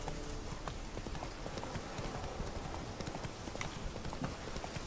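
Horse hooves clip-clopping steadily from the fantasy game The Witcher 3: Wild Hunt, fairly quiet beneath a dense wash of ambient game noise, with no talking over it.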